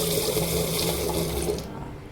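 Running water splashes and swirls steadily close by as pigeon pea lentils (toor dal) are rinsed, then cuts off near the end.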